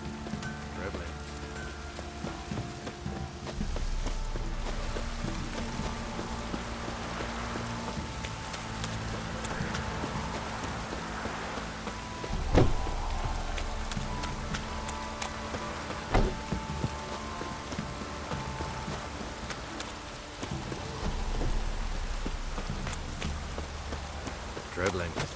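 Steady rain in The Witcher 3: Wild Hunt on PS5, a continuous close patter on surfaces with a few louder knocks and thumps, under faint background sound.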